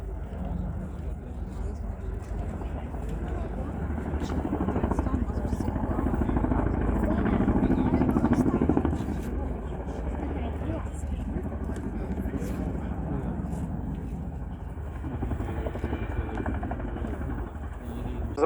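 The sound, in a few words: large helicopter flying display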